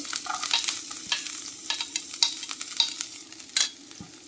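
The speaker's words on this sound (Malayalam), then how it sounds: "ബട്ടർ ഒന്ന് മെൽറ്റായി വന്നപ്പോൾ നമ്മൾ അതിലേക്ക് വെളുത്തുള്ളി ഇട്ട്" Garlic sizzles and fries in melted butter in a pan, a steady soft crackle with clicks of stirring, close and moderately loud, with no talking.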